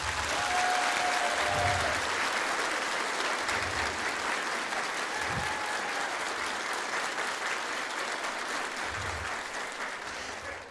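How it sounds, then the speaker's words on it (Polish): A concert audience at the Chorzów Culture Centre in 2009 applauds loudly and continuously for about ten seconds, the sound tapering slightly at the end. "Dobry wieczór i brawa!"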